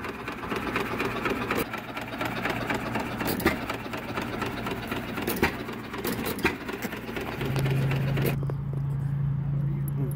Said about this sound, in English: My dad used to have an engine like this.